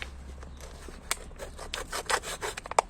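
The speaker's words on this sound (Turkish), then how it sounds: "Bir son ağacımı kesiyorum." A plum tree branch is being cut by hand, heard as a series of irregular rasping, scraping strokes close up. The strokes are short and uneven, with quiet gaps between them.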